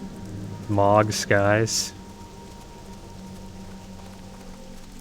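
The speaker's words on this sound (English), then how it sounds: "It's raining." Steady rain falls across the Eastern Plaguelands in the video game World of Warcraft Classic, a continuous soft hiss that keeps going under a short burst of speech at the start and then continues alone.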